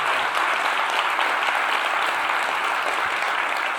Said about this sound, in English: I'd like to give a big round of applause to all our award winners last